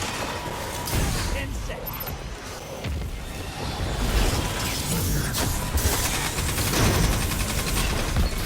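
Rapid gunfire from weapons in Destiny 2's Gambit mode, dense crackling bursts and impacts running nearly nonstop, with someone talking over the shooting.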